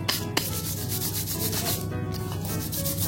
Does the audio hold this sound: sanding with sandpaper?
yes